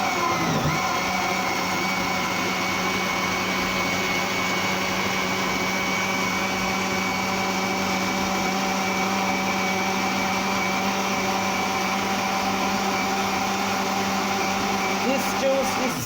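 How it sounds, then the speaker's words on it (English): A powerful kitchen blender runs steadily at full speed, blending pear, apple, orange and lemon into juice, a loud continuous motor whir with a constant tone lasting throughout, close up and without pause. "I'm just going to turn my blender on now."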